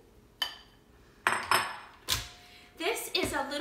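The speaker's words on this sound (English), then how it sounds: "I'm going to take this lid off and I'm going to scrape the dough out into a bowl" Sticky bread dough scraped out of a KitchenAid 9-Cup Food Processor Plus into a bowl: several sharp clinks and knocks of a utensil on the bowl and container at irregular intervals, close and moderately loud.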